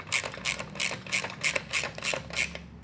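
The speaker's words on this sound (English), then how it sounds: "or a ratchet." A ratchet tightening a 13 mm lock nut on the bracket of a rolling miter saw stand gives about eight evenly spaced crisp clicks in a steady rhythm, close and alone.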